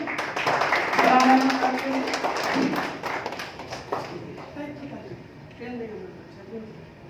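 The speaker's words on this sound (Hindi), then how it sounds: "जोरदार तालियां हो जाए भाई।" Clapping from an audience at an evening social-service honours event at the Academy of Fine Arts, strongest in the first few seconds, then thinning into scattered claps under a voice.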